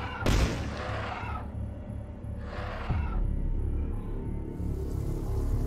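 A weapon fires and explodes in the retro shooter video game Dusk: two sharp booming blasts, each followed by a rumbling decay, with a low background drone between them.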